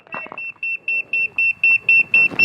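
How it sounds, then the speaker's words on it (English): A steady run of short, evenly spaced high-pitched electronic beeps from a non-contact voltage tester at a light switch, close and clear, with brief handling noise at the start. "we put our non-contact voltage tester on it, and we can see that this is beeping now"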